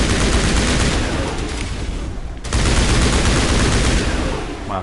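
Rapid gunfire in the video game Mass Effect, dense bursts of shots and explosive crackle filling the clip, loud and continuous with a brief lull midway.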